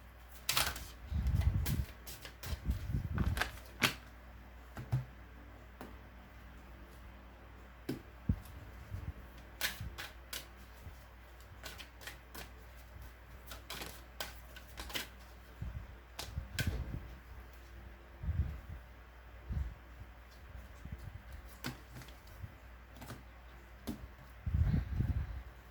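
Oracle angel cards being pulled and shuffled by hand, heard as scattered soft taps and brushing snaps in a quiet room, with a few louder flicks spread through.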